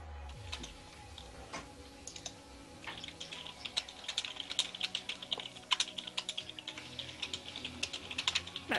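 Fast, irregular keystrokes on a computer keyboard, close and fairly quiet, continuing steadily with bursts of clicks and no talking.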